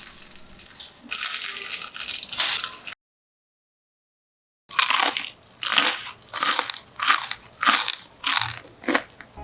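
Crispy deep-fried chicken heads and necks being crushed and bitten, loud close crunching in repeated bursts, with a short silent gap partway through and no talk.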